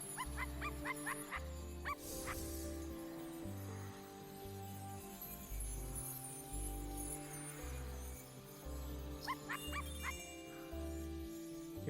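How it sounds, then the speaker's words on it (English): A dog in the video game I Am Dead lets out quick bursts of rapid barks at the start and again near the end, layered over a pulsing game soundtrack with no speech. "Keep barking at him."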